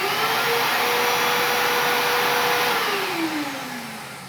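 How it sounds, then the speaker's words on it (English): A shop vac plugged into a CNC control box accessory outlet runs with a loud, steady whooshing roar, its motor whine holding level and then sagging lower as it begins to wind down near the end. "Let me turn on the dust collector, which should power up this accessory outlet, which has a shop vac plugged in."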